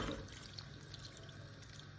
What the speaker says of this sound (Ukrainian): Загартовую холодною водою.